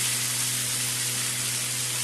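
Frying vegetables in a pan give off a steady, close, even sizzle that continues without a break, with a low hum under it. Nobody speaks.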